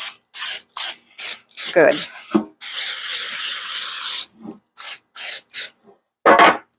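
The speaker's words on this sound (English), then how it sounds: "So that was just some olive oil spray right there" Olive oil cooking spray hisses into a 9 by 13 baking dish in one sustained burst of nearly two seconds, between brief bits of nearby talk and handling sounds.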